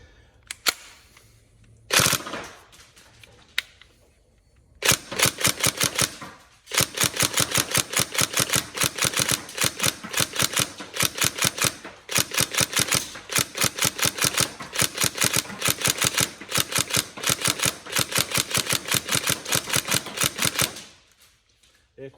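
A Tokyo Marui MP5A5 NGRS electric airsoft gun fires long, rapid full-auto strings of sharp clicking shots, with a few isolated shots first and short breaks between bursts, close and clear.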